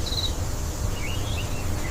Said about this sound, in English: Cicadas hum softly like nature's own quiet song.